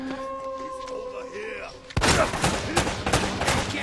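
Sustained AK-47 automatic gunfire erupts in a firefight in the video game Uncharted: Drake's Fortune, loud dense bursts after a quieter stretch of tonal game music and ambience, with a voice talking over the action.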